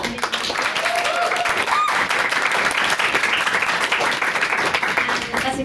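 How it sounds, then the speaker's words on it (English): Audience applause at a debate chamber event, a sustained burst of many hands clapping that fills the whole stretch, fairly loud with a brief voice near the start. "I also again want to give a round of applause to Peggy."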